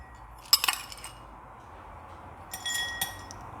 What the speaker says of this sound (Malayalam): ഇതിലേക്ക് ഒരല്പം ഡ്രൈ നട്ട്സ് ഇട്ട് കൊടുക്കാം.